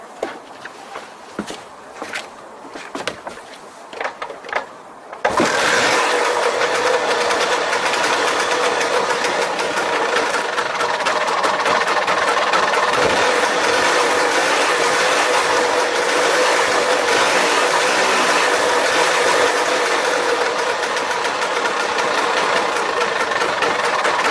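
A Lambretta Series 3 scooter engine after a de-coke catches after a few quiet clicks and settles into a steady, loud, buzzing two-stroke run close by, with no voices.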